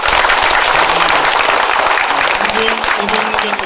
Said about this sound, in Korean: 우리 조일원 의원님을 위하여 큰 박수 한번 부탁드리겠습니다